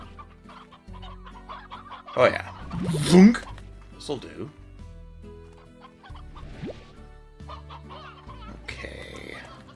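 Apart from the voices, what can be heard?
hens clucking in Slime Rancher video game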